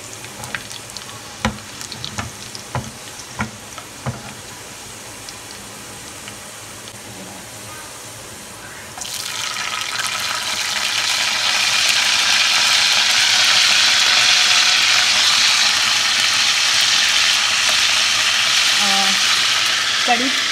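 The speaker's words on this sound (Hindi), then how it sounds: "ये प्याज ब्राउन होते होते इसमें ये लाल मिर्चें डाल देनी है पहले, क्योंकि ये थोड़े से टाइम लेंगी।" Onions, red chillies and fenugreek seeds for pakora curry tarka hit hot oil and erupt into a loud, sustained close sizzle after some quieter clinks and stirring at the start.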